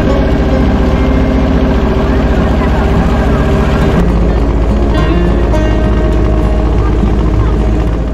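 Boat engine drones loudly and continuously on the river crossing from Nabadwip to Mayapur, a low steady rumble with a slight shift midway, heard up close.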